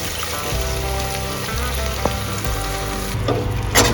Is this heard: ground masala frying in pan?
yes